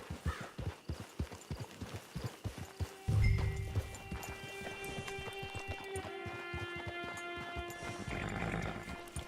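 Horse hooves clip-clop at a steady walking rhythm in the open-world game Red Dead Redemption 2, close and clear at first, then fading under a sustained musical drone and low rumble in the second half.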